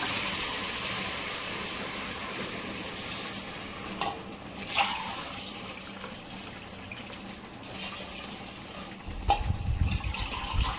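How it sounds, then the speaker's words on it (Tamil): Coconut milk pours into a cooking pot, a steady liquid wash with a few clinks of the vessel and a low rumbling swell near the end. "தேங்காய் பால் வந்து ஊற்றிக்கலாம்."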